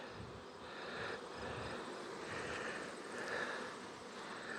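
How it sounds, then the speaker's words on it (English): Bees shaken out of a box onto the ground buzz in a dense, continuous hum, faint and steady with slight swells in loudness, no voices heard. "I'm gonna try to shake these bees down here"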